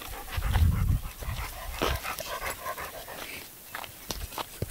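A dog, a Rottweiler or Great Dane out on a walk, pants rapidly up close, quick rhythmic breaths with a few snuffles and faint rustling around it.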